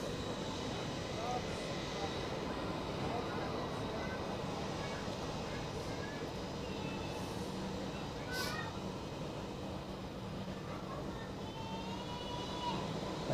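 A Swiss Airbus A321 airliner taxis at Zurich Airport, its engines a steady, fairly distant whine and rumble holding evenly throughout, with other airport noise faintly in the background.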